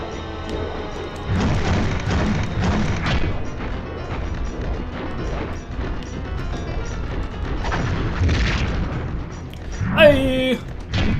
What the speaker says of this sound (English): Take the small bomb, bitch.